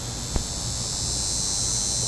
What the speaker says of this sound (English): you can hear those cicadas making a noise here in the deep south in July